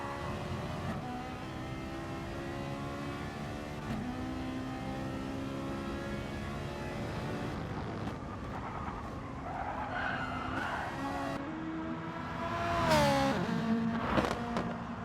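Onboard a race car in a racing game during a GTTCC Pro1 race, a steady engine drone shifts pitch through gear changes, then rising revs and squealing tyres grow loud near the end.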